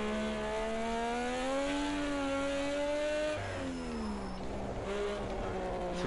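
A Mazda MX5 engine downshifting to third gear on a lap of the Nürburgring Nordschleife, with a steady droning tone rising in pitch and then dipping as the gear changes, heard from inside the car with no talk.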